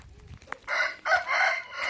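A rooster crows loudly nearby in two drawn-out calls, with a soft cluck just before from a hen.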